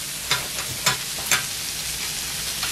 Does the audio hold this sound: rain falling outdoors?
no